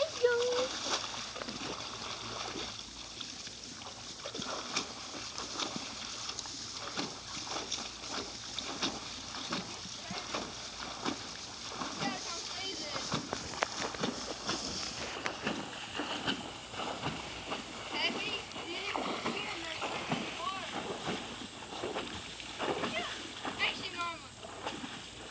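A dog splashing and playing in a pond, with continuous sloshing and rhythmic water splashes close by as a person speaks over the sound.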